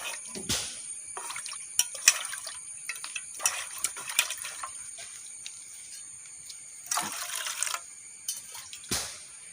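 Tamarind is squeezed by hand in a little water, giving intermittent wet squelches and splashes in short bursts separated by quiet pauses.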